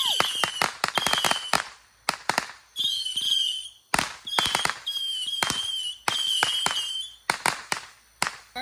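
Fireworks shells burst in rapid volleys during a Fourth of July backyard show: sharp cracks come in dense bursts with crackling trails and whistling squeals between them. Spectators cheer and exclaim over the explosions.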